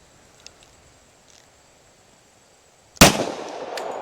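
A single sharp gunshot from a Rock Island 5-inch .45 ACP pistol firing hollow-point rounds, a loud crack after near silence, followed by a ringing outdoor decay.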